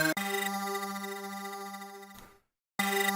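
A sustained note from a Polyphenom hybrid synthesizer with a bitcrusher effect has a gritty, lo-fi crushed texture, holds, then cuts to brief silence before sounding again.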